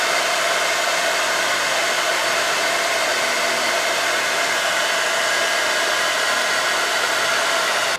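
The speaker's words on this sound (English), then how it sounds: "I'm going to get my hair dryer and see if I can blow it dry a little bit." A hair dryer blows steadily on a single setting, a loud continuous whooshing hum that runs unbroken for the whole stretch with no voices.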